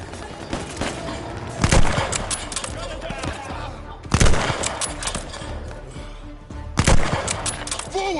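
Machine gun fire in the Call of Duty Vanguard campaign, with bursts of rapid, loud shots that recur every couple of seconds over a busy battle din, while voices shout in the background.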